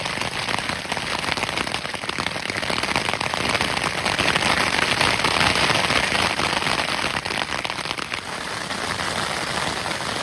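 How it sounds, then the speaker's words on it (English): Hail falls on a tent in the Beartooth mountains, a dense, steady pattering and crackling rattle close overhead that continues without pause throughout, with no talking. "hail"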